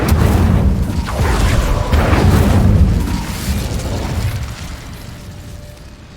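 An Incendio fire spell erupts in Hogwarts Legacy, a loud, full whooshing blast with a deep rumbling body that fades out slowly over several seconds, heard alone.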